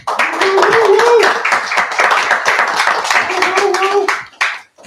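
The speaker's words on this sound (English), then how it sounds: "if you give them a small round of applause, I'd really appreciate it" Attendees at a school board meeting give a short round of clapping, several hands patting at close range for about four seconds under murmured talk, then stopping abruptly.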